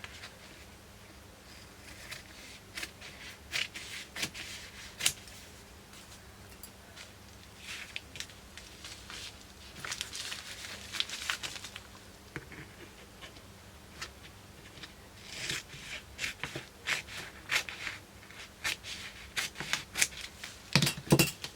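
Scissors snip through scraps of craft paper at a table, a run of short, crisp cuts and paper rustles recurring irregularly, close and fairly quiet, with no talking.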